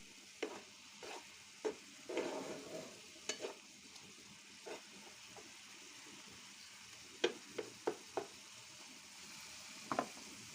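Dried red chilli powder and coriander powder are stir-fried in oil for a brinjal and potato shutki curry, with a low steady sizzle broken by repeated scraping strokes of a spatula at an uneven rhythm.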